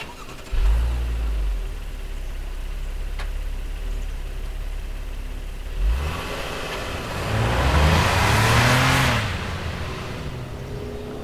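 A naturally aspirated V6 in a Honda Passport TrailSport idles low and steady, then revs up in a rising engine sweep near the end, heard close without talk.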